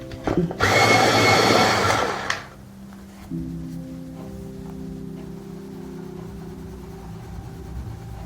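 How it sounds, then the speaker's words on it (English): Colored pencil being sharpened, a loud grinding burst lasting about a second and a half, close by, then a steady low hum carrying on after it. "We'll sharpen that up."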